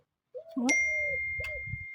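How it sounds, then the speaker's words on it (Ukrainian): A phone chimes with a short message notification, a bright two-note bell-like ding ringing out and lingering, with a low rustle underneath. "Сообщення на телефон прийшло"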